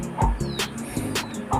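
A dog nearby barks and yips in short, sharp bursts, several in quick succession over a background of faint outdoor noise.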